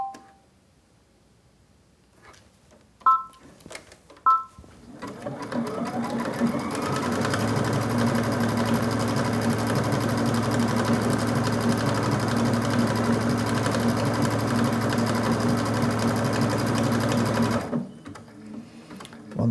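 An XV Dream Machine sewing machine stitching in sensor pen sewing mode: two short beeps first, then a loud, steady, continuous motor hum and stitching rattle for about twelve seconds before stopping abruptly.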